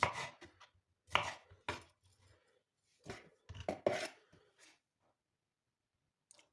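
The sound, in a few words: knife chopping bell pepper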